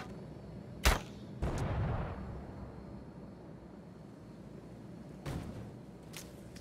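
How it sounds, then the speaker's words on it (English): A sharp blast bursts out in the video game The Culling, followed by a rumbling boom that fades, then another muffled explosion and a faint crack later, with quiet gaps between. "did you hear that explosion?"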